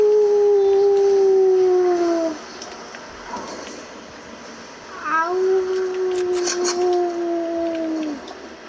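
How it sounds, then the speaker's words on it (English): A wolf in a video game howls twice in long, sliding calls over stormy wind, the first lasting about two seconds and the second after a short pause, fairly loud and close. "Wolf! It's a wolf."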